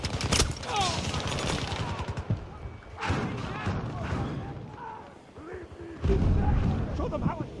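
Artillery and gunfire in the video game Battlefield 2042: repeated heavy booms and rattling shots, loud and close, in bursts, with voices talking over the combat.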